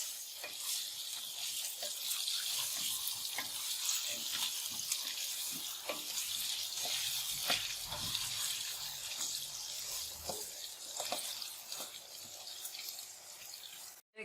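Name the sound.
potatoes frying with turmeric and salt for biryani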